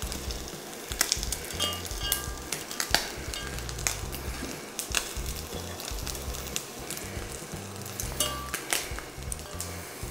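Small croutons sizzle and fry in a pan, a busy steady crackle close by, with occasional clinks and scrapes of stirring, and no talk.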